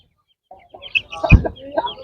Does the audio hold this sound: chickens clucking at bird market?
yes